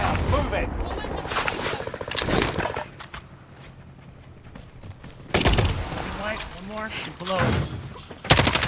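Video game battle royale gunfire, loud bursts of shots with a quieter lull in the middle, then renewed heavy firing, with players talking over it.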